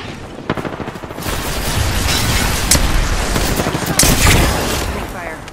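Loud, rapid gunfire in the video game Apex Legends, with sharp shots and booms over a busy, continuous battle din, heard up close.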